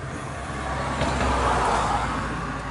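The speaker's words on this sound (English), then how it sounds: "There's another car coming." A car passes on the road nearby, its broadband tire and engine rush swelling toward the middle and easing off again over a few seconds, with no talk.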